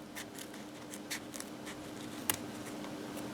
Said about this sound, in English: This is in plastic, so it's really easy to cut.